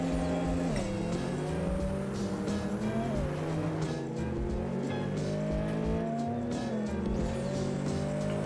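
A Camaro accelerates hard in the racing game Apex Racer, its engine roaring loudly and rising in pitch through gear changes, with tire squeal mixed in.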